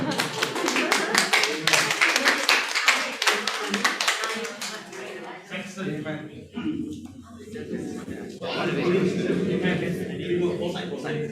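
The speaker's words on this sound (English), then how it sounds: "Okay, give them a clap." Audience clapping at a Vesper gathering as two children, Zacchaeus and Denson, are called out; dense, rapid claps fill the first five seconds, then thin out while voices talk over the room.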